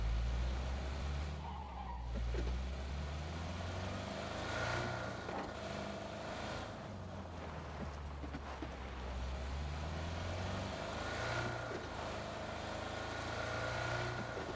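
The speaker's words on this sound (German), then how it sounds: "Komm, lass mal das Auto nehmen." A car driving in the video game PUBG gives off a continuous low engine rumble with steady road noise and some tyre skid, loud and constant for the whole stretch, with no talk.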